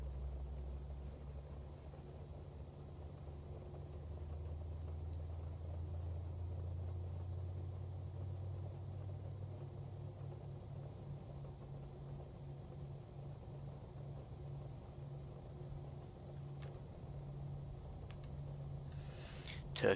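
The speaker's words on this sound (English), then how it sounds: "Hear those engines spooling up there" Turkish Airlines jet engines spool up in the MSFS 2020 flight simulator, a steady low rumble with a droning hum that holds through the clip, moderately loud and alone, with a few faint clicks near the end.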